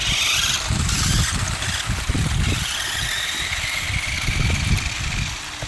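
A small RC car launches in a drag race, its motor whirring steadily for several seconds with rising and falling surges, close and fairly loud, with no talk.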